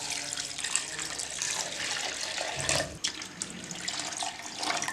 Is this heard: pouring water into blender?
yes